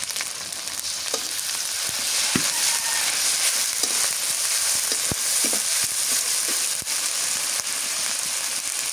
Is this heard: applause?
no